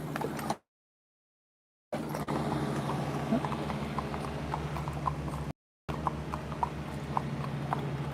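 Horses' hooves clip-clop steadily along a street on Mackinac Island, a continuous rhythmic patter of hoofbeats amid a low background hum, with brief dropouts in the sound.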